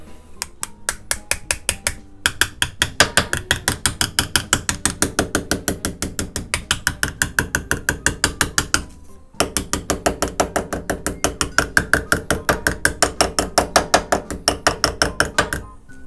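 A tap wrench cuts threads during a Great Planes Revolver 60 landing gear repair: a long, loud, evenly spaced run of ratcheting clicks, briefly interrupted once, with no talking.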